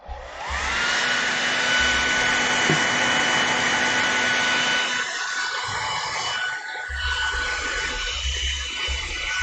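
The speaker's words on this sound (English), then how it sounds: "I'm gonna let this dry real quick with my hairdryer." A handheld hairdryer blows on wet acrylic paint, a steady close whooshing roar that starts abruptly, holds for several seconds, then dips and shifts as the airflow is moved, with soft knocks underneath.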